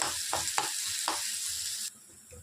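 Stuffed eggplant curry with drumsticks fries in a pan with a steady hissing sizzle and a few scraping stirs, dropping quieter near the end.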